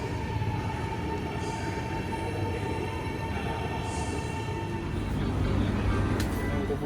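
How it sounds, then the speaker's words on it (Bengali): KLIA Express airport train in Kuala Lumpur, a steady loud rumble of the rail car with a low droning hum throughout, wheels and carriage noise building slightly near the end. "এই হচ্ছে কেএলআইএ এক্সপ্রেস।"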